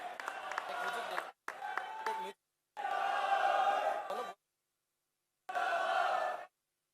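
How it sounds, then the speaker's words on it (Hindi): A crowd at an outdoor farmers' rally and foundation-stone ceremony in Rajasthan breaks into bursts of amplified applause, several loud clapping stretches separated by abrupt silences. "जोरदार तालियों से अभिनंदन"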